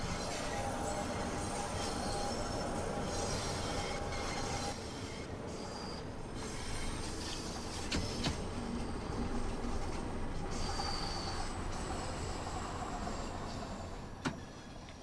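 A London Underground Bakerloo Line train in Train Sim World 2 runs through a tunnel at about 30 mph, giving a continuous loud rumble with wheel squeal and rattling, and faint clicks near the end.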